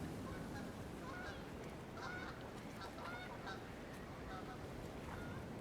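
Geese honk repeatedly as they fly over in the adventure game Amerzone: The Explorer's Legacy, their calls fairly faint and scattered over a steady bed of ambient noise.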